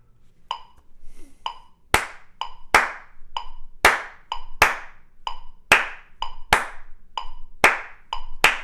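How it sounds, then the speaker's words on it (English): Hands clap out a steady, lilting swing rhythm of sharp, ringing claps in short repeating groups, close and clear with no voices. "until you think you sound like a jazz musician just clapping"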